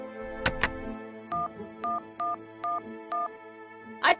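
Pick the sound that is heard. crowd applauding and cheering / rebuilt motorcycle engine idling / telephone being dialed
telephone being dialed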